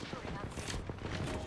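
Rapid gunfire in Apex Legends, a dense burst of overlapping shots packed tightly together and heard close and loud throughout, with talk mixed in.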